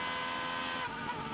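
A Superleague Formula race car at the Nurburgring, heard onboard, runs at steady high revs while it slides slightly over a curb, with a continuous loud engine drone throughout.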